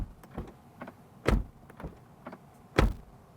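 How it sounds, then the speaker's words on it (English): Door of a 2024 Tesla Model 3 shut several times close up, giving sharp solid thuds at irregular intervals, two noticeably louder, with softer knocks and clicks between. "And what does the door slam sound like?"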